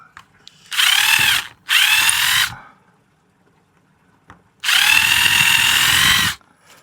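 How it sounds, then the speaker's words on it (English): A power drill whirs in three loud bursts drilling holes in a shed, two short and one longer, with brief quiet pauses between them. "So I'm going to center this, and I'll drill 2 holes."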